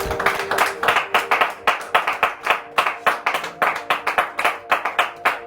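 Congregation clapping in a church during worship, a steady, fast rhythm of many hands beating together in close, loud bursts with no talking over it.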